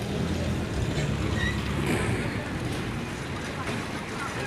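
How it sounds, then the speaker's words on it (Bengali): A large ship comes in to dock at a river ghat amid a steady, broad rumble of engine and water wash, with faint voices in the background. "বিশাল বড় জাহাজ 4 নম্বর ঘাটে ল্যান্ড করছে বন্ধুরা"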